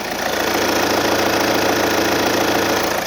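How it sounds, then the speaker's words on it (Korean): A Volvo SUV engine idles steadily and evenly up close, a continuous low rumble with no talking. "자 엔진음 바로 들어보실게요"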